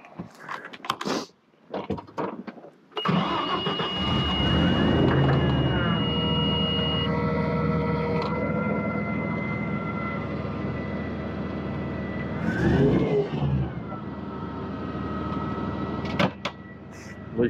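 A Clark CGC70L 15,500 lb propane forklift engine cranks and catches, then runs steadily at close range with a smooth, even drone, rising briefly around mid-clip before settling again, with a few clicks and clunks near the start and end.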